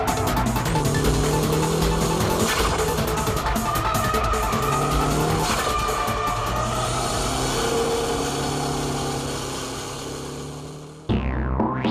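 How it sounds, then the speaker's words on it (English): A Toyota Hachiroku drifting, with tires squealing in long continuous tones over a roaring engine, loud and close throughout, before the sound drops away abruptly near the end. "As Tsuchiya countersteers, the G-balls are intact and moving towards the rear very smoothly"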